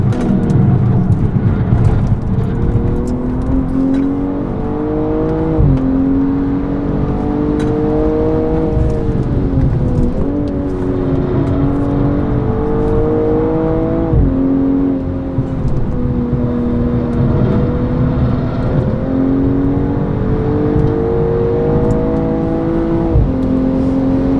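A 2022 BMW M240i xDrive pulling hard at very high speed, its engine note climbing in repeated rising sweeps with brief dips at gear changes, loud and close over constant road and wind roar.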